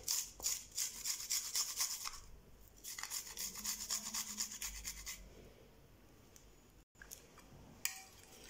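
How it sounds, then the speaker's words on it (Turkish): A garlic clove is grated into a bowl of yogurt, heard up close as quick, rhythmic rasping strokes in two bursts, then scattered faint kitchen sounds. "Bir tane sarımsağı içerisine rendeliyorum."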